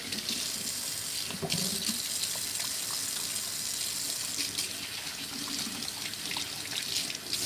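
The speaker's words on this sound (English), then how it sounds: "wash all that oil off of your hands, just so it doesn't get on everything else" A sink tap runs steadily while hands are rinsed of tuna oil in a kitchen, a close, continuous stream of water with splashing and a few small knocks against the basin.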